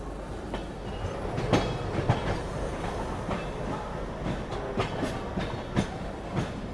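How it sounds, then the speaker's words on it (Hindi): A goods train rolls past on Indian Railways track in the Bilaspur division, a loud, steady rumble of wagons with rhythmic clickety-clack wheel beats recurring over the roar. No voices are heard. "यहाँ आपको खूब सारी गुड्स ट्रेन देखने को मिलेंगी, क्योंकि आप अभी बिलासपुर डिवीज़न में हैं।"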